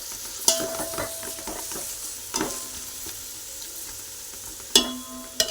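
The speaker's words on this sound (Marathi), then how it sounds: "कांदा आता छान गुलाबी रंग येईपर्यंत आपण त्याला भाजून घेणार आहोत" Chopped onions fry in oil in a pan, cooked until pinkish, with a steady hiss under sharp scraping stirs and a few louder spatula clacks against the pan, close and alone.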